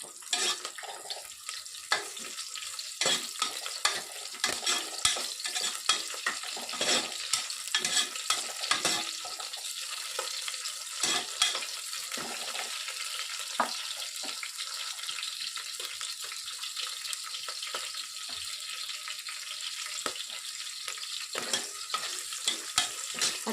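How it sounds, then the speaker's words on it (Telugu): Green chillies and onions frying in a pan for an Andhra-style chicken masala curry, with a steady hiss and crackle of hot oil and frequent scraping stirs throughout, close and fairly loud, no talk. "కట్ చేసి పెట్టుకున్నటువంటి 4 నుంచి 5 పచ్చిమిరపకాయలు వేసుకొని బాగా వేయించుకోవాలి"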